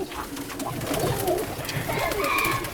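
Pigeons coo steadily in a pigeon loft, soft throaty calls overlapping at close range with the rustle of birds around them, no voices.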